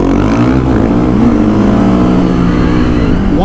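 A manual-clutch vehicle races up to 40 miles an hour, its engine droning loud and close with a rising, straining pitch that holds steady before climbing again at the end.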